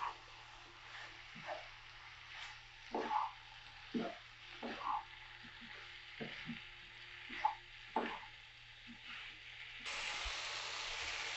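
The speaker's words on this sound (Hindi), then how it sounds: "अब इसमें गोभी आलू डाल देंगे। इसे अच्छे से मिक्स कर देंगे।" Cauliflower and potato fry in masala, with scattered soft scrapes and stirring knocks over a low, gentle sizzle, close and fairly quiet, and a brief hiss near the end.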